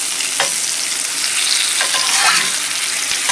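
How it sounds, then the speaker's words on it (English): Bologna frying in extra grease in a pan, a loud, dense and continuous sizzle with faint crackles close up and no talking. "so I'm going to cook this bologna up, and I put the little extra bit of grease in there"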